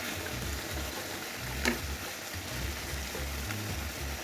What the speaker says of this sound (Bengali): মিষ্টি কুমড়া ভাজা করতেছি